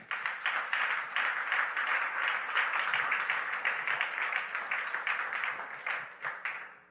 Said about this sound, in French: Quelqu'un peut d'abord acclamer le Seigneur